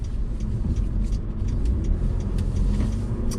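Steady engine and road drone from a 2020 Mitsubishi Pajero Sport Exceed 4-wheel drive on the move, a continuous low rumble from inside the cabin without speech.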